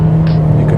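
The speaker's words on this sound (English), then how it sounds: "The engine is a little noisy during accelerations." Small-displacement economy car engine in a 2014 Fiat 500L, heard from inside the cabin as a steady low hum that swells briefly as it accelerates, close and continuous.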